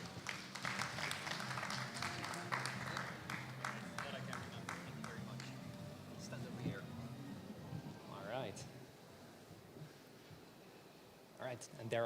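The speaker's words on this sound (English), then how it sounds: "Please give him a big round of applause." Applause from a forum audience starts brisk and dense, then thins into scattered claps while voices speak over it and continue after it fades.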